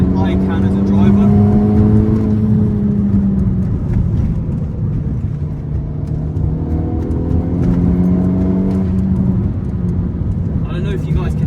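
Stage 3 Audi S3 8P engine pulling hard under boost toward 8,000 RPM, a loud, sustained rising engine note heard from inside the car, steady and close throughout with a voice talking over it.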